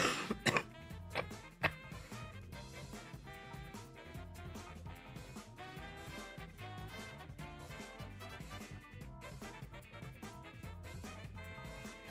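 A person with a slight cough coughs a few times near the start, short bursts over continuous upbeat game music playing quietly in the background.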